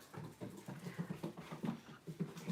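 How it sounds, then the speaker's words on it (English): An excited indoor dog, just back from outside, runs in circles with quick rhythmic panting and scrabbling under a steady low background noise, fairly faint. "can you hear that crazy dog running in circles?"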